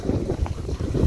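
Strong wind gusting over a microphone outdoors on a Hong Kong hiking trail, a steady loud rumbling buffet that fills the whole moment, with no voices.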